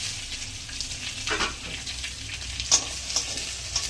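Capsicum and peas frying in ghee in a pan, a steady moderate sizzle with a few light stirring scrapes and small clinks.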